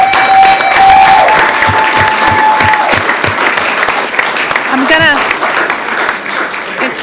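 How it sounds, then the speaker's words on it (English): A county board meeting audience gives sustained applause to honor a long-serving member: dense clapping that carries throughout, with a voice and a brief whistle rising above it. "let's give Pat a round of applause"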